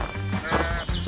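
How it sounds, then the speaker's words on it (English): Sheep bleating on a farm, a short wavering cry heard twice over a brief second, loud and close. "The sheep are also here."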